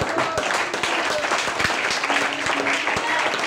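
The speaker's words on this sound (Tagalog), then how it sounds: "Kaya tayo pumapalakpak, mga kapatid, dahil hindi yan sa ating pansariling kapurian." A church congregation applauds together during a preaching service, a steady dense wash of many hands clapping loudly and continuously, with a voice speaking faintly underneath.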